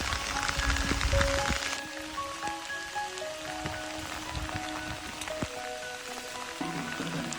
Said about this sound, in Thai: แต่ฝนตกหนักมาก